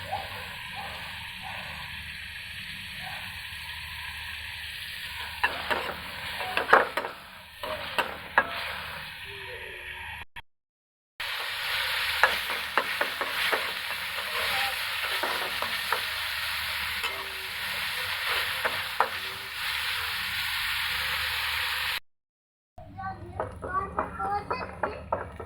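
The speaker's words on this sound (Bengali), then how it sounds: "পেঁয়াজটা ভালো মতো ভেজে নিচ্ছি, ব্রাউন কালার করে নেব।" Chopped onion sizzles in soybean oil in a pan with a steady frying hiss, broken by repeated scraping and clinking as a spatula stirs it; the sound cuts out briefly twice, and a voice speaks at times.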